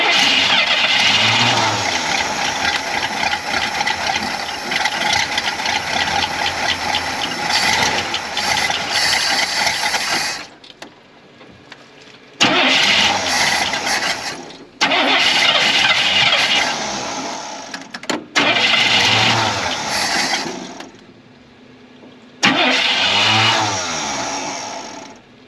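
A 1966 Cadillac Sedan DeVille that has sat for over ten years cranks and catches, its big engine running loud and rough in bursts that cut out and restart several times, then settling toward a steady idle.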